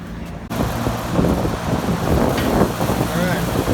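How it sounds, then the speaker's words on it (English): Blower of a gas/electric HVAC unit running steadily indoors in cooling mode after a time-delay restart, a constant broadband whoosh that rises in level and holds, with a faint voice briefly over it. "We've got our blower back on. It's running inside here."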